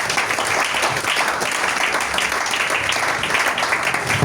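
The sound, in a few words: congregation applauding and acclaiming in church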